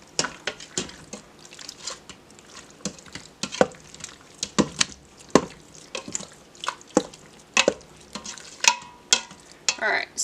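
Shredded chicken in barbecue sauce simmers on sauté in an Instant Pot, giving off soft, uneven bubbling pops and spatters that arrive close and quiet in an irregular rhythm.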